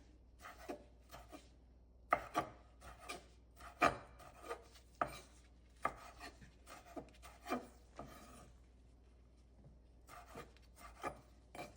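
A kitchen knife slicing through ingredients for a spicy hot pepper sauce on a cutting board: a steady run of crisp, close chopping strokes with irregular gaps, quiet overall, with no talking.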